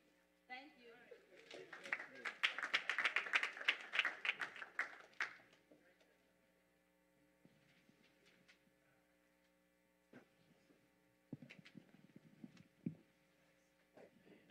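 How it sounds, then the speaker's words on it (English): A church congregation claps for its honorees at a Sunday service, a few seconds of rapid, dense applause over a steady electrical hum, then fading to scattered taps before a voice speaks. "let's give our honorees another hand clap of praise"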